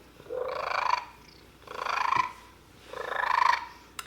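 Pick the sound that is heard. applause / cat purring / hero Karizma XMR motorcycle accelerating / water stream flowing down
cat purring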